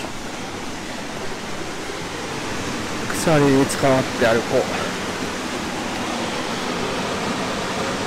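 Ryujin waterfall in the Nishizawa Valley gorge pours with a steady, even rush of white water that fills the whole stretch, while a voice talks briefly partway through.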